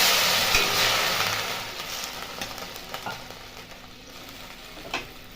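Papaya being stirred with spices in a hot pan for a chutney, a steady close sizzle with soft scraping strokes that gradually eases over a few seconds, no voices.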